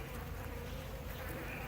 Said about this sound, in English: I've got some mad bees right now. They are not happy with me being here at all.